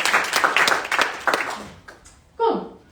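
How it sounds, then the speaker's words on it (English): An audience at a climate hackathon final pitch event applauds with scattered clapping that fades, followed by a brief burst of speech. "give them a big applause as well"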